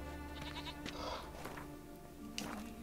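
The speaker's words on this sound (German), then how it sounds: "War die gar eine Ziege?" Goat bleats faintly a few times over a steady game soundscape in the video game The Witcher 3: Wild Hunt.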